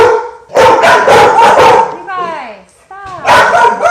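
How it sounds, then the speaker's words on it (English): Several house dogs bark at the neighbors in quick repeated bursts, with a higher yelping whine in the middle. Someone talks loudly over and between the barks. "My dogs are barking at the neighbors."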